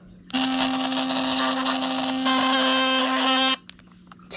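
A defective Philips Sonicare PerfectClean electric toothbrush with a loose head mount gives a loud, harsh, rattling buzz at close range. It runs steadily for about three seconds and then cuts off abruptly.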